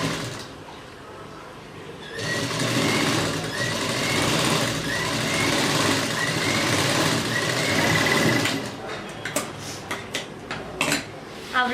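A sewing machine stitches piping onto fabric in a steady, close mechanical whir lasting about six seconds, then stops, followed by a few light clicks and handling noises.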